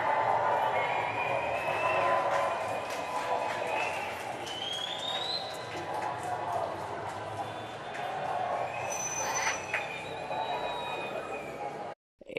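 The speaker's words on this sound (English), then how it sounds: "I'm just going to pause to hear the crowd." Large outdoor crowd at the Platinum Jubilee reacting to Prime Minister Boris Johnson, a steady roar of mixed voices with whistles and cheering rising over a broad wash of noise, distant and sustained.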